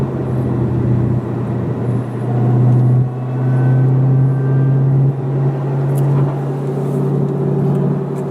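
A 2018 Dodge Demon with a transbrake, heard from inside the car, pulls hard under acceleration, its loud engine drone climbing in pitch and dropping briefly at each quick gear shift, no one speaking.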